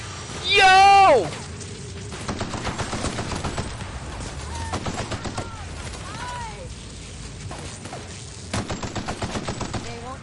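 Automatic assault rifle fire in The Outer Worlds sounds in repeated rapid bursts, with a brief loud burst near the start, then steady volleys over game music and effects, with a voice at the outset.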